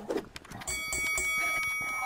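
A boxing round bell in a video game rings out after a burst of crowd-like noise, then holds a sustained, steady metallic ring to the end.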